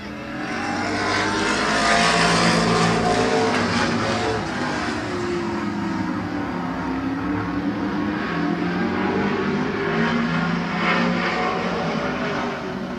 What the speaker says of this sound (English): 3 heats of late model heat races tonight here at Midvale Speedway